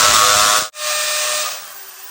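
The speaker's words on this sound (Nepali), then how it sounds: "अब यहाँनिर चाहिँ म ड्रिल गर्नु आँटेको छु" A power drill bores into a wall at home, giving a loud, steady whirring hiss that stops briefly and then starts again before fading slightly, with no talk.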